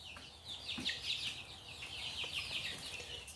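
Young chicks in a brooder chirp and peep continuously in a busy, high-pitched chorus, fairly faint and close, with no talk.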